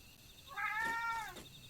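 A cat gives a single drawn-out meow, close and clear against quiet room background, with no talking over it.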